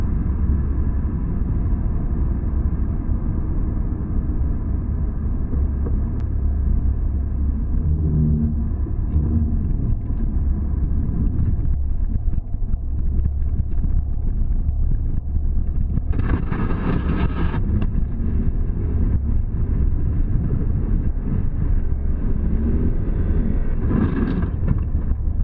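A car's engine roars at full throttle with the gas pedal pressed to the floor, a loud, continuous low rumble and drone throughout, with brief bursts of wind-like noise partway through.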